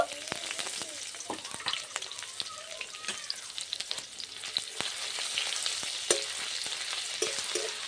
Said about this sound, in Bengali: ভালো করে আদা লঙ্কাটা একটু ভেজে নেব